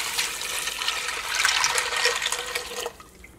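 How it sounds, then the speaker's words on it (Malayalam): Water pours steadily into a pot of macaroni for about three seconds, a loud, close rushing splash that stops abruptly near the end. "ഇത് വേവിച്ചെടുക്കാൻ വേണ്ടിയിട്ട് ഇതിലേക്ക് വെള്ളം ചേർക്കാം."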